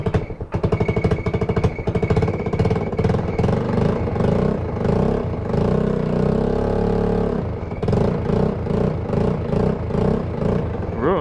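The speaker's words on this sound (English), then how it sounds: "we've got a scooter that runs, man" A GY6 scooter engine running on bad fuel with a loose exhaust, a loud close rapid putter that revs up, settles briefly into a smoother drone, then returns to choppy pulsing.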